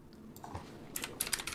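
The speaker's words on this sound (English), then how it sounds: "He types in his keyboard like this, by the way." Fast typing on a computer keyboard, faint scattered clicks at first building into a quick burst of sharp keystrokes near the end.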